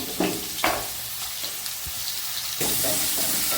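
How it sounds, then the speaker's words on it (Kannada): Chopped onions and green chilies fry in a pan with a steady close sizzle, a couple of stirring scrapes near the start and a louder burst of crackling toward the end. "ಸಣ್ಣ ಕಟ್ ಮಾಡಿ ಇಟ್ಕೊಂಡಿರೋಂಥ ಈರುಳ್ಳಿನ ಸಹ ಇದರಲ್ಲಿ ಹಾಕ್ಕೊಳ್ತೀನಿ ಚೆನ್ನಾಗಿ ಫ್ರೈ ಆಗಲಿ"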